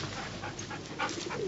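Dogs at La Madrague make soft whimpers and whines, brief and fairly close, over a muffled, low background.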